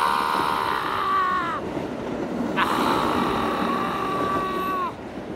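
A train sound effect of horn-like tones sustained over a rushing rumble, with two long blasts separated by a short break, loud and alone before fading slightly at the end.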